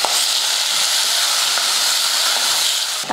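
Chopped tomatoes and onion with a pinch of salt sautéing in a hot pan give off a loud, steady sizzling hiss that runs evenly for about three seconds, with no talking over it.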